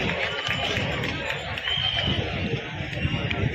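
An audience at a Bihar Day festival in Bharuch applauding to welcome a district head onto the stage, dense steady clapping from a crowd with murmured voices mixed in.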